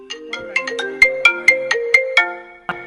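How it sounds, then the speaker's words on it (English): A phone rings with an incoming call, a bright melodic ringtone of about ten crisp plucked notes in a quick rising-and-falling pattern, loud and close, with no speech. "sometimes when I get a phone call, and it messes up the sound"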